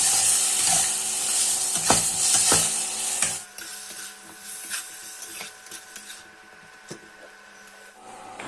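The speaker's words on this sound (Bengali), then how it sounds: "এটাকে লো টু মিডিয়াম ফ্লেমে ভালো করে কষিয়ে নেব।" Spice paste of turmeric, coriander, cumin and chili fries in a pan over low to medium flame, giving a steady close sizzle and broadband hiss. Scattered scrape and tap clicks sound throughout, and the hiss drops noticeably after about three seconds.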